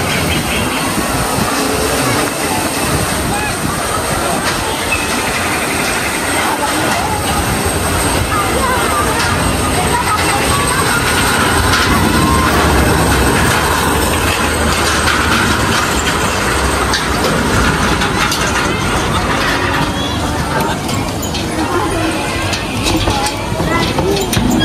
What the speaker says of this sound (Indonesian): itu kereta wow-nya sudah datang guys